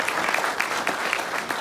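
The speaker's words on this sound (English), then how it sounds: "Can I get a round of applause for this guy?" Steady applause fills a retirement ceremony room, many hands clapping evenly at close range with no voices over it.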